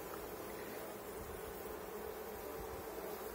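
A dense, steady drone of honeybees buzzing inside a classroom beehive habitat, low and continuous, heard up close with no other sounds.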